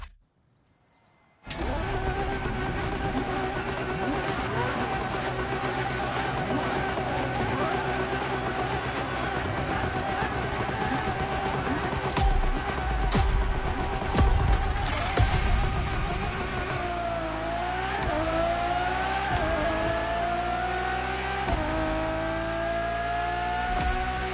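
A Ferrari Enzo supercar engine in The Crew Motorfest racing game, starting up and then running in a loud, steady drone with harmonic layers that rise and shift in pitch toward the end as it revs.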